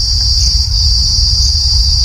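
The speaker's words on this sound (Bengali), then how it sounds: "শুনতে পাচ্ছ ঝিঝি পোকার আওয়াজ? চারদিকে শুধু ঝিঝি পোকা আর ঝিঝি পোকা।" Crickets chirp in the deep Garh Jungle forest near Durgapur, a loud, dense, continuous high-pitched trill with a low background hum and no talking.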